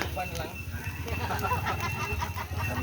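Chickens cluck steadily in the background, close by, mixed with voices and general outdoor bustle at a birthday gathering in San Mateo.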